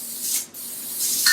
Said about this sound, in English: I'm just going to spray this all over to get my white base that I wanted.